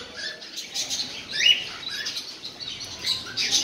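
Caged birds in the bird section of a pet shop chirp and tweet in short bright calls with light rustling, scattered and fairly close against a quiet room.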